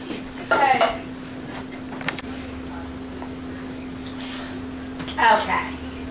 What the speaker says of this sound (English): While I'm stirring up this hamburger a little bit, and I'm stirring up the spaghetti